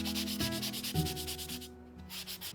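Rhythmic back-and-forth scratching of a sanding sponge on a cast Ultracal 30 plaster stone, brisk even strokes close by, with a brief pause near the end.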